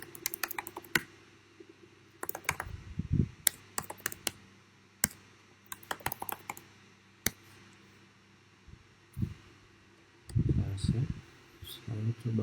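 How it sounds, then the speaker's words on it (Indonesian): Typing on a computer keyboard, irregular clusters of sharp clicking keystrokes separated by short gaps, close and clear, with talk breaking in at a few points. "Saya ketik kembali."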